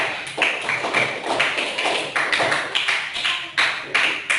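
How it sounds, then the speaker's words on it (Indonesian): Students in a classroom clap their hands together in steady, fairly loud rapid applause that continues evenly throughout with no talking. "Oke, tepuk tangan dulu."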